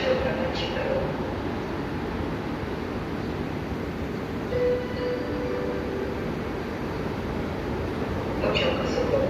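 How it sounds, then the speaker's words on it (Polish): A passenger train rolls into a platform at Poznań Główny station, a steady low rumble of wheels and carriages with faint squeals, while a platform announcement voice speaks over it. "Pociąg już jest."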